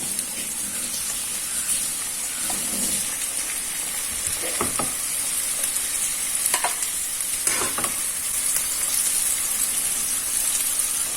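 Chicken molee ingredients frying in hot oil in a Kerala-style kitchen, giving a steady close sizzle with occasional stirring scrapes and clinks, with no talking.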